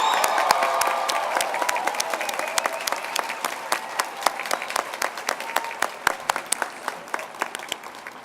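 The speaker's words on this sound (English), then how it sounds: "Let's give another round of applause to our" Audience applause for 2016 nursing graduates at a pinning ceremony, a large crowd clapping steadily with sharp individual claps standing out and faint cheering beneath, continuing throughout.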